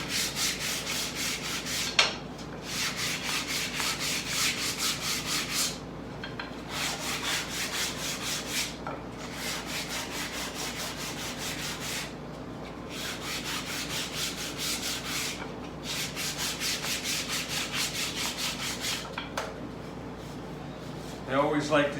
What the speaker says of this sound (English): I always like to just sand the edge off a piece like this